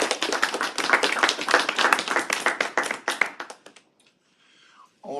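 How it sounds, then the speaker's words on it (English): Audience members applaud panelists at a panel discussion, with a burst of fairly close, distinct claps that gradually thins out and stops, followed by a brief quiet pause and a faint sound at the end. "One more round of applause for our three panelists before the Q&A."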